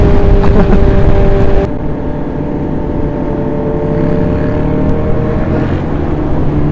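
A Honda CB650R motorcycle engine revs past 6,000 RPM with a loud, strained, buzzing roar, then drops to a steadier, lower rumble for the rest of the stretch.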